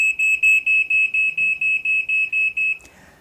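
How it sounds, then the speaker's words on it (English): Home smoke alarm going off with a shrill, loud beeping repeated about eleven times in a steady rhythm, then stopping abruptly with a faint clunk. "we're all told to fit fire alarms in our homes"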